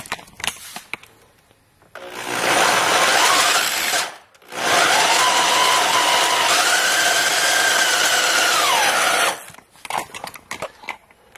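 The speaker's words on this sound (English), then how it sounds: "ratchet head on there, just attach to my drill, and go" Power drill fitted with a ratchet head attachment, run during a homebrew brew day: two sustained whirring bursts of about two and nine seconds, separated by a brief stop, with pitch rising and settling as the motor loads and unloads, close and loud.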